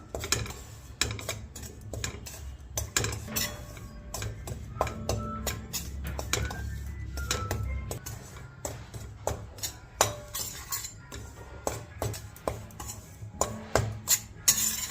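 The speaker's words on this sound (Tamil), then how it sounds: "இதை நல்லா வறுத்து எடுத்துக்கலாம்" Pearl millet roasting in ghee in a pan, heard as steady scraping and clinking of a utensil against the pan, with irregular taps and stirring strokes close by throughout and no talk.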